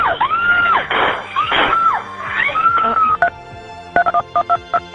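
Telephone dialing and transfer tones on a 911 emergency call being put through to medical: warbling rising tones give way to a rapid series of short DTMF beeps, close and clear, with a frantic voice mixed in.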